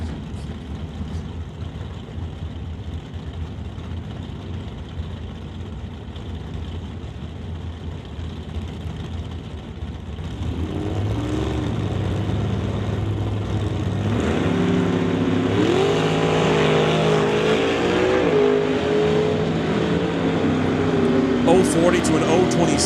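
Drag race launch at a summit ET event: a Regal and a Chevy Bel Air rev at the line, then roar off loudly with rising engine tones, while a commentator talks over the track noise.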